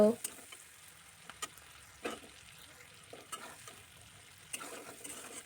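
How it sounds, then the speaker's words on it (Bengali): Shrimp frying in a pan, a low steady sizzle close by, broken by several sharp scraping and stirring clacks spaced irregularly across the stretch, fairly quiet with no voices. "চিংড়ি মাছটাও কিছুক্ষণ রান্না করে নিতে হবে এইভাবে"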